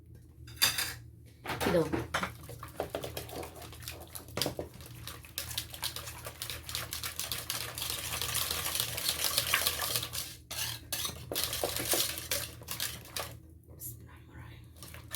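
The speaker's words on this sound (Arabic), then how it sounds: "كل اللي هعمله هضربها تاني بالمضرب" Hot qishta cream whisked again in a bowl with a metal whisk, a close, busy clatter of rapid scraping and tapping that builds and continues steadily, with a brief soft voice at the start.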